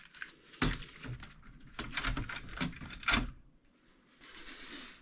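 Plastic clattering and knocking as the keyboard of an opened Amiga 1200 computer case is lifted and shifted, a few close bumps and rattles with brief pauses between.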